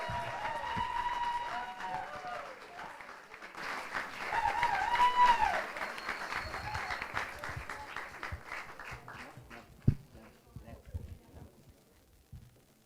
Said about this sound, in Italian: A big applause for Pavlovsky!